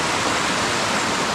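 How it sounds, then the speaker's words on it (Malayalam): Water from a spring flows steadily through a cave near Kannur, producing a close, even, continuous rushing wash with no pauses. "ഈ നല്ല വെള്ളം ഒഴുകുന്നത് തന്നെ"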